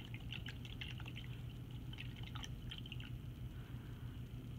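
A paintbrush scrubs and swishes in a small water dish during a first-grade paint-mixing lesson, with faint wet splashing and dripping sounds, quiet and close.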